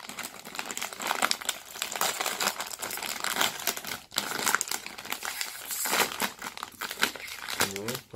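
A Samyang seafood-flavour ramen package being torn open, with loud continuous crinkling and crackling of the plastic wrapper for several seconds, close to the mic, and a voice speaking briefly over it near the end.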